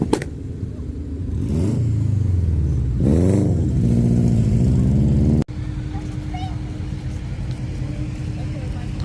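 Cars pull into a Saturday night car meet in an IHOP parking lot, among them a Mustang 5.0 S550 and a GT350; a loud V8 revs and rises in several sweeps, then settles into a steady nearby idle.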